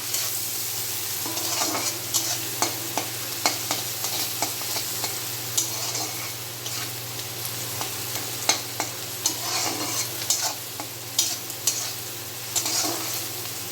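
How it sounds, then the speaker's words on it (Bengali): Onions frying in a pan for a mutton curry with potatoes: a steady close sizzle runs throughout, broken by repeated scraping stir strokes at uneven intervals, with no talking. "এই যে পেঁয়াজটা ভাজা ভাজা হয়ে এসছে"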